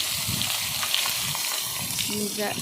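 Taki fish frying in a pan with ground spice paste poured on top, a loud, continuous sizzle and bubbling close up, with a faint voice in the background.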